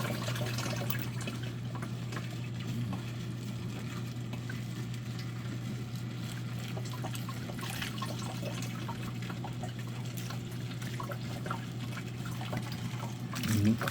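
Water rinses grit from the lip of a rock tumbler barrel after tumbling desert jasper and prairie agate, a soft, continuous trickling and splashing over a low steady hum.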